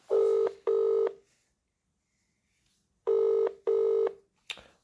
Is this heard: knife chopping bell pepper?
no